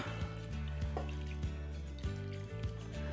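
Beef broth poured into a soup pot for Italian sausage and kale soup, a steady close liquid pour with gurgles and splashes throughout, no talking.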